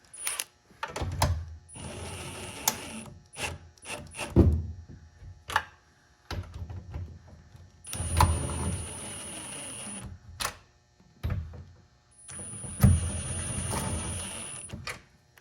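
Screws are driven in to fit a Boost tow mirror on a Chevy Silverado, heard as repeated close bursts of whirring and clicking separated by short quiet gaps, with a few sharper knocks between runs.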